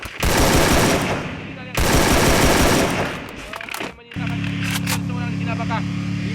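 Gunfire in a battle royale video game during a tournament qualifying match: long bursts of rapid automatic fire, loud and dense, then a pause and scattered sharper shots over a steady humming tone, with a commentator talking through it.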